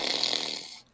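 A person breathes out in a rough, throaty snore imitation, one continuous rasping breath lasting most of a second and then stopping, close and fairly loud.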